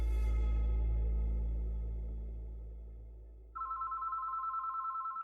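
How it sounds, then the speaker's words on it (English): Quiet room hum that fades, then a landline phone in an apartment starts ringing with a steady electronic trill, fairly close and clear. "the phone at Devin and Carrie's apartment began to ring"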